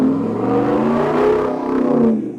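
A car engine revs on its own, a loud, steady droning whine whose pitch climbs and dips over a couple of seconds before easing off.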